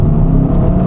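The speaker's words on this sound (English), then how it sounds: "I'm trying to do like a whole rev range in it, so you lot can actually hear." Tuned Volkswagen Golf R engine revving steadily through its rev range, a loud, close, continuous rumble and whir with no voices over it.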